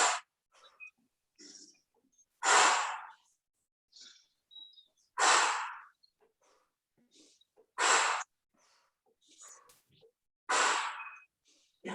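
Slow qi gong breaths come in spaced, airy pulses during a gentle practice, each a soft, close rush of air separated by quiet pauses, repeating about five times with faint murmurs between.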